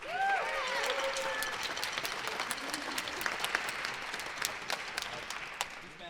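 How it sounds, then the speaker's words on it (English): An audience applauds a university band steadily, a dense patter of many hands that gradually thins out, with a few faint voices at the start. "If we can just give a round of applause for that."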